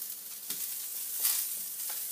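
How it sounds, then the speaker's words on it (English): Brussels sprouts sizzle softly in a hot skillet as they are tossed, with a steady frying hiss broken by a few scraping stirs. "Just toss them around the skillet a little bit, spread back out in a single layer"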